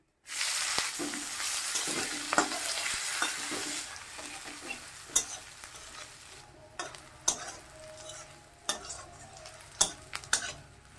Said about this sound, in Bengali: শুকনো লঙ্কা ফোড়ন দিয়ে দিলাম, জিরা ফোড়ন দিয়ে দিলাম, তেজপাতা দিয়ে দিলাম, পেঁয়াজ দিয়ে দিলাম